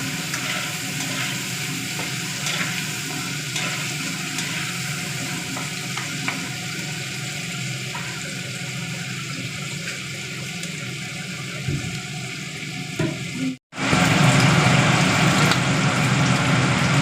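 Marinated chicken pieces dropped into a hot pan sizzle and fry steadily, with a loud, continuous crackle that briefly cuts out near the end and then resumes even stronger.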